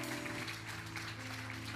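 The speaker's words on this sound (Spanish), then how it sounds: "Den ese aplauso fuerte al Señor" A church congregation applauds together, a dense, steady wash of clapping that fills the room for the whole stretch, fairly faint overall with no voices over it.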